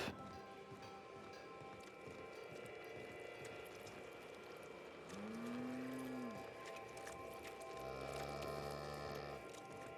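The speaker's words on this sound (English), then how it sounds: "brought the cows in here?" Cows moo in the video game The Outer Worlds: a long, rising-then-falling bovine call, then a second, flatter moo a couple of seconds later, both standing out over a steady humming, layered game ambience.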